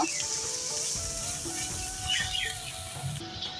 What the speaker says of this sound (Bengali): এবার আমি 8-10 মিনিট ভালোভাবে মাশরুমটাকে কষিয়ে নেব।